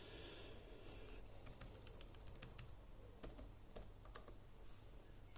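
Keys clatter on the keyboard of a £200 tablet in quick irregular bursts of light clicks, soft and close against a quiet hiss, with no one speaking.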